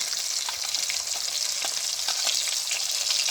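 Tomatoes frying with spices in a pan make a dense, steady sizzle with occasional crackles and stirring scrapes, close and continuous throughout.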